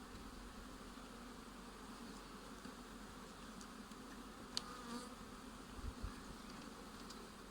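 Steady, faint buzzing of many honeybees at an open hive with drone bees emerging, a dense continuous hum with no talk.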